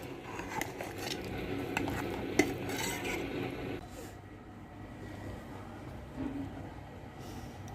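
Amla (Indian gooseberry) pickle being mixed by hand or spoon in a container, a continuous close clattering, scraping and squelching with a few sharper clinks, then quieter rustling, no talk.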